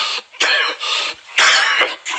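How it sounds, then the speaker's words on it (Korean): Several harsh, breathy coughs in quick bursts, close and loud, separated by short pauses. "누가 기침 소리를 내었는가 말이야?"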